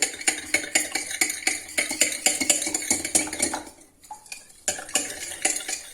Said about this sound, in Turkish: 2 adet yumurtamız. 2 kaşık yoğurdumuz. karıştıralım.